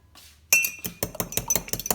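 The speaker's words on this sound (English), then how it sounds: "And 2 eggs in the cup, and I'm just going to stir a bit." Two eggs being stirred in a cup, with a utensil clinking quickly and repeatedly against the cup's sides, close and fairly loud, with no voices.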